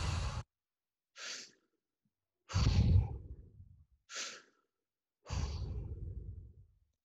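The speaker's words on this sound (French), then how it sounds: "Inspire, tout de suite après, expire. Tout de suite après, inspire." Deep rhythmic breathing through an open mouth during a guided meditation exercise: five long, loud breaths alternating inhale and exhale, each a rushing airy burst separated by short silences.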